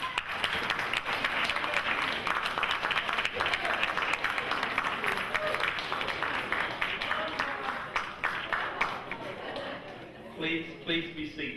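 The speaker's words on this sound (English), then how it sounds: "give all of your friends, loved ones, colleagues a round of applause for supporting you over these years" Sustained audience applause fills a graduation ceremony hall at a Navy medical laboratory technician graduation, steady dense clapping from a large crowd for about ten seconds before thinning out at the end.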